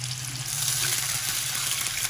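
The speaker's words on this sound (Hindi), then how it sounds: "और थोड़ा सा इसमें हम 1/2 कप पानी शामिल करेंगे" Half a cup of water poured into a pan of marinated chicken breast pieces frying in oil, giving a steady, bright hiss and sizzle that holds evenly throughout.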